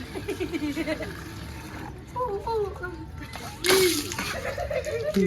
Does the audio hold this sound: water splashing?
yes